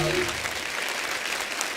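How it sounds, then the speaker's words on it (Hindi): A studio audience on The Kapil Sharma Show breaks into dense, sustained applause, a continuous wash of many hands clapping at once, loud and steady with no clear gaps. "एक बार जोरदार तालियां हो जाए रवीना जी, सुधा जी और गुनीत जी के लिए"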